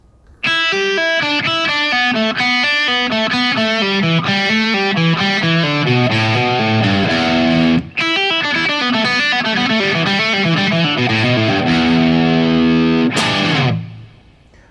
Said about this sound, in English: Let's try a longer lick using all 6 strings.